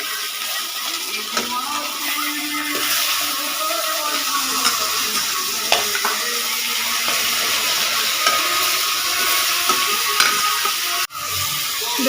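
Fish frying in hot oil, a steady bright sizzle and crackle lasting throughout, with occasional pops and stirring scrapes and a brief break near the end.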